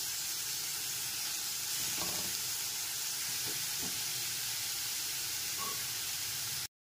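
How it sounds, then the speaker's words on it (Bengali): Onion, garlic and green chili paste frying in a pan over low to medium gas flame, a constant close sizzle and hiss with a few faint clinks of stirring. "গ্যাসের ফ্লেমটা লো টু মিডিয়ামে রেখে পেঁয়াজ, রসুন আর কাঁচা লঙ্কার পেস্টটা খুব ভালো করে 2 থেকে 3 মিনিট সময় ধরে কষিয়ে নেব"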